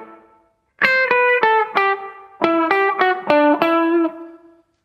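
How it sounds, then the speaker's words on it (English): An electric guitar runs through a Strymon BigSky reverb pedal on its subtle setting, playing two short phrases of picked notes and chords, each ringing out with a soft tail that fades into silence. "That then feeds into the Strymon Big Sky reverb"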